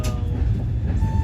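A train crosses a railway crossing beside the Teesta river rail bridge at Sevoke, giving a steady, close, low rumble with rolling wheel noise throughout and no voices.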